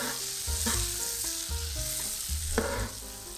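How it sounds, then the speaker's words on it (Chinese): Hot oil heated until smoking, 150 g of it, poured over ingredients in a bowl: a loud, continuous crackling sizzle right up close with scattered pops, no voices. "最后加入150克已经烧至冒烟的油，加入油的时候特别的热，一定要小心。"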